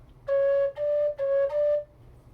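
A Carbony carbon-fiber tin whistle plays a steady high C natural four times in quick succession, clear and close, with a short break between each tone.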